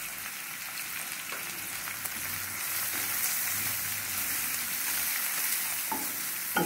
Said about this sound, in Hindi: मसाले भून जाए और हमारा प्याज भी थोड़ा भुन जाएगा।